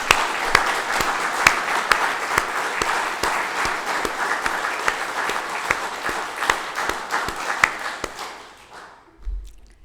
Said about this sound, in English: Please, a round of applause for everyone.